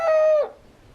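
A single loud, close chicken call, one short drawn-out vocal note lasting under half a second with a slight downward bend, then silence.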